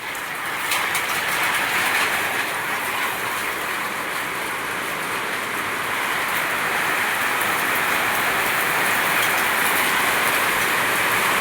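Heavy rain pours steadily outdoors at evening, a dense, continuous hiss of drops pattering on surfaces at close range, loud and unbroken throughout with no talking.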